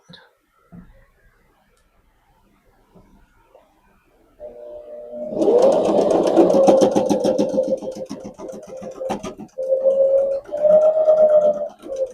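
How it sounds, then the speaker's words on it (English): A sewing machine stitches down both sides of a hanging kitchen towel, starting after several quiet seconds with a steady mid-pitched motor hum and rapid needle clatter, pausing briefly, then running again near and loud. "And then I'm going to sew down both this side and this side."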